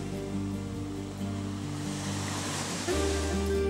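Sea waves wash onto the beach at Saebaji, a quiet fishing village on the east shore of Daehang village, a broad continuous rushing surge with low tonal hum underneath, steady and moderately loud.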